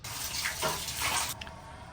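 Running water splashes from a tap onto dishes being washed in a village home, a close, steady gush that breaks off briefly near the end, with no talk.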